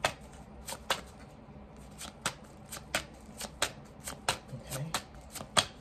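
A deck of angel oracle cards is shuffled by hand, giving a brisk series of crisp riffling flicks and soft slaps at an irregular rhythm, close and fairly quiet.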